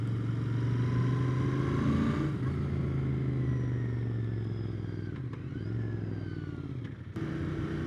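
A 2020 Royal Enfield Interceptor 650 with its stock exhaust, ridden along at a steady pace: a continuous low engine drone mixed with rushing wind, dipping briefly as the revs change partway through.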